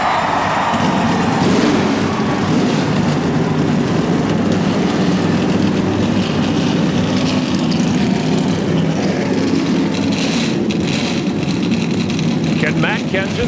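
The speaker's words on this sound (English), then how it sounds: "Gentlemen, start your engines." NASCAR race car engines starting and revving as a field fires up together, a dense, loud, continuous engine roar with a crowd and announcer-like voices mixed underneath throughout.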